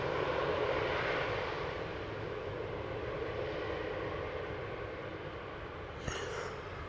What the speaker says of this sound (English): Silkway West Airlines flight 201, arriving from Baku, 747-400.